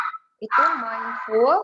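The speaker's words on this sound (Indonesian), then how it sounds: "Maaf anjing saya ini menggonggong terus." A pet dog at home barks during an online webinar, giving a short yip and then a drawn-out, whining bark under a person speaking.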